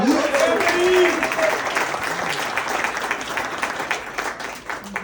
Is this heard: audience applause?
yes